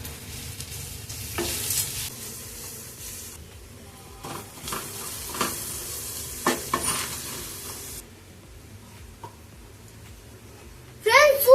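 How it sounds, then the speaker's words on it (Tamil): Spiced egg masala with garam masala sizzles in a pan as a spoon stirs and scrapes through it in close, irregular strokes, with a voice talking in the background. "வதக்கிக்கலாம்"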